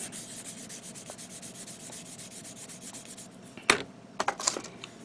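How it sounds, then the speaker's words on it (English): Soft, close rubbing strokes of sanding the edges of a plastic part from a 1/100 Master Grade Freedom Gundam model kit, followed by a few sharper clicks and taps near the end. "as I'm sanding it down, all I'm sanding down is the edges, but not the middle part."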